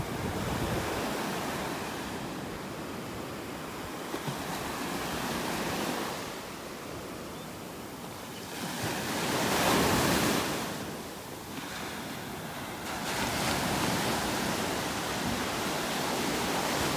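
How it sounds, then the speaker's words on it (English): Ocean waves break on a beach in North Naples, Florida, on a clear morning, a loud rushing surf that swells and recedes in several surges, mixed with wind buffeting the microphone. "Pretty nice waves this morning."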